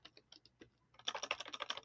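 Typing on a computer keyboard: light, scattered keystrokes at first, then a fast, dense run of louder clicks close to the microphone, with no talking.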